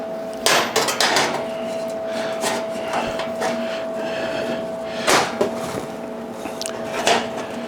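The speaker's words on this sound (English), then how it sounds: "I just take the pry bar and just pry it, and it'll close that gap in here." Steel pry bar levering metal pieces together to close a gap during fabrication, giving several sharp metallic knocks and clanks spread irregularly over a steady background hum.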